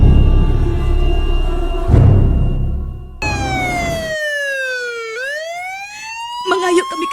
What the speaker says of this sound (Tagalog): Kaya ina ng ambulansya.